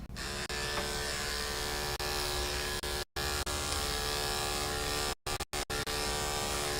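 Electric clippers fitted with a 30 blade and an inch comb buzz steadily while trimming a Shih Tzu's long coat, a close continuous hum broken by a few brief silences.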